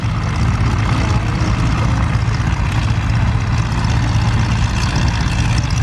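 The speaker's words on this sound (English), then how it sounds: "Finally got the engine started." A vintage aerobatic airplane's engine runs loud and steady after starting at an airshow in Bealeton, Virginia, a constant low rumbling drone close by with no talk over it.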